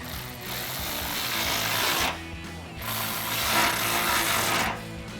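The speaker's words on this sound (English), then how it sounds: "now we can go ahead and tighten these up using our 13mm socket" Bolts on aftermarket slim running boards for a 2021-2024 Ford Bronco are tightened with a 13mm socket, giving a steady, close mechanical rasping in two long bursts with a short pause between and no talking.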